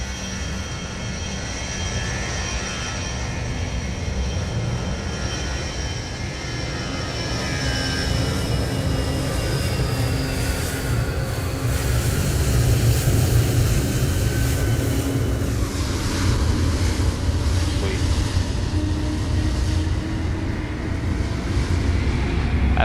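A jet airplane takes off on an airport runway under marginal VFR weather. Its roar builds from a steady rumble to a louder, rushing blast with shifting engine tones, close and sustained for over twenty seconds, with wind buffeting and no speech.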